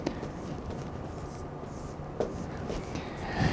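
Marker or chalk strokes on a board during a project-management talk, with soft scratchy scribbles and a few taps across a quiet room, no talking.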